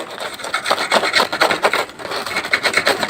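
Crunching of toasted Syrian flatbread, heard as close, dry, rapid crackling and rasping bites that run steadily for a few seconds with no talk over them.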